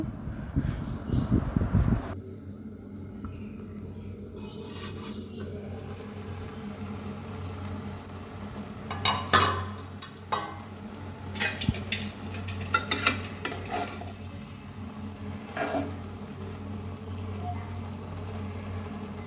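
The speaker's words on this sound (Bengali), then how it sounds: "ভাজিটা আমি ভালো মতো নেড়ে চেড়ে ঢাকনা দিয়ে ঢেকে দেবো" Fried stalk vegetables are stirred in a pan with a utensil, intermittent scraping and clinks over a low frying sizzle, with a few sharper metallic knocks as a lid goes on; a voice is heard briefly near the start.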